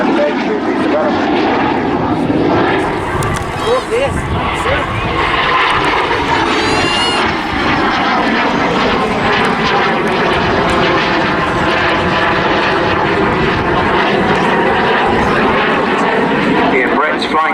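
A propeller plane drones loudly overhead at the Southport Airshow 2022, its engine pitch sweeping as it passes, with a commentator's voice talking over the noise.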